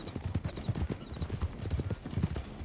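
Horse hooves clip-clop steadily in a video game, a close, even trotting rhythm of hollow thuds that carries on unbroken.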